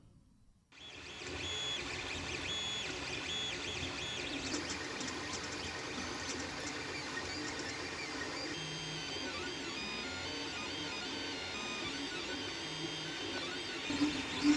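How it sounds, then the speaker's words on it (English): A 3D printer prints parts for a replica of Vash the Stampede's revolver from Trigun. Its stepper motors make a steady, close whirring hum with shifting tonal whines and buzzes that run without pause. "let's jump right into the 3D printing"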